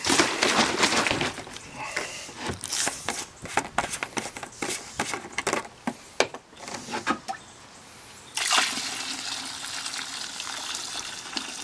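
Liquid wood and masonry treatment product for rot, fungus and insects poured from a bottle, a continuous splashing gush with gurgles that eases off and then resumes as a steadier pour toward the end.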